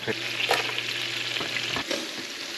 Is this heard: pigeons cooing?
no